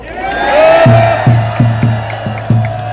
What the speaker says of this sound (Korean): 함성과 열렬히 박수로 환영합니다